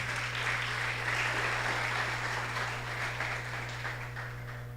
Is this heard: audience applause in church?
yes